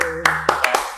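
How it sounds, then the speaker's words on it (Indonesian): A small audience at an indoor talk show gives a few sharp, separate claps, four loud bursts spread over a second, with a voice talking beneath and between them. "Tepuk tangan dong."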